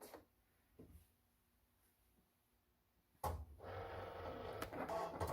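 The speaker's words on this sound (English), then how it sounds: "And it's going to start printing whatever I have on the screen." A printer starts up with a few soft clicks, then at about three seconds bursts into a loud, steady mechanical whir of printing that continues to the end, close by with no talking.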